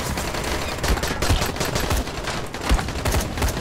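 Rapid bursts of automatic gunfire from a 24-round gun in the zombie video game Dying Light, cracking in dense repeated volleys with short gaps between them.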